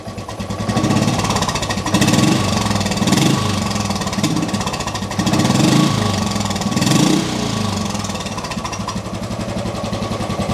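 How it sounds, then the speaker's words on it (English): A 2014 Royal Enfield Bullet EFI 500cc single-cylinder motorcycle idles close by, a steady loping thump with rhythmic pops and slight surges in revs. "that sounds like a British motorbike, doesn't it? Without a shadow of a doubt, that pop, pop, pop."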